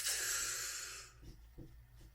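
A long, deep exhale sounds as a loud, airy breath close up, fading after about a second into quiet with a few faint soft breaths.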